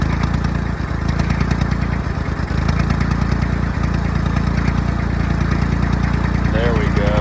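A Super Dexta tractor engine runs unevenly while trying to pick up its third cylinder. The loud, close, rough diesel chug is uneven, and voices briefly speak over it.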